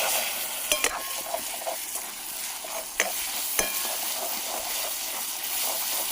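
Onion and tomato fry in a pan at an outdoor cooking spot in the forest, a continuous bright sizzle with occasional sharp knocks of the stirring spoon.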